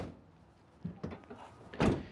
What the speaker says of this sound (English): Now, I'm going to go ahead and close these two doors.